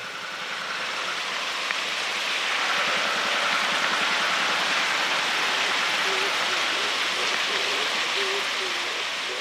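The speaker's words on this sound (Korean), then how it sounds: "비가 올 때만 이런 물소리가 들립니다." Rain-fed water rushes steadily through the Suseong-dong valley stream on Inwangsan in Seoul, a dense, even roar that holds throughout, with a faint voice partly audible beneath it.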